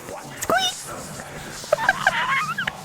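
A person imitates a rat with a few high, thin squeaks, close and loud, with speech around them.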